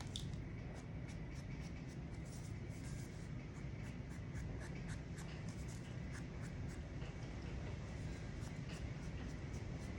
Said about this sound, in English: once you're all glued, ink up the folded edges